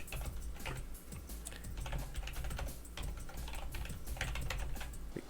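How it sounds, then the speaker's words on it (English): Continuous typing on a computer keyboard, close and fairly quiet, with rapid irregular key clicks running through the whole stretch and no voices. "We're going to type in our URI."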